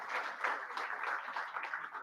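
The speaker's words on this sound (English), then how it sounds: "Let's please give them another round of applause." An audience applauding after a presentation at a conference: a continuous wash of many hands clapping at moderate volume, steady and somewhat distant.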